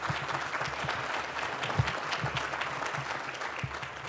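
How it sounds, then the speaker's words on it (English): An audience at a South Carolina diabetes event applauds, a dense steady patter of many hands clapping at moderate volume throughout, with no voices. "Round of applause for all of them"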